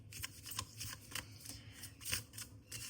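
Tarot cards are shuffled by hand in quick riffling bursts, a string of crisp papery flutters and taps repeating at an irregular rhythm, quiet and close with no talking.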